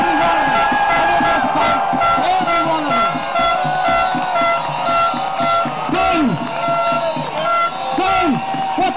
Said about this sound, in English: Listen to that crowd, my friend.